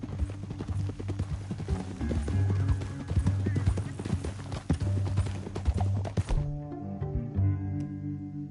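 Horse hooves in Red Dead Redemption 2, a steady galloping clip-clop close up with game music and voices talking over it, ending as the riding stops.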